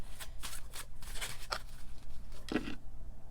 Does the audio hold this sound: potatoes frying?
no